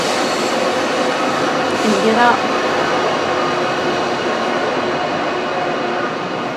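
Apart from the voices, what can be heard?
freight train passing along the train line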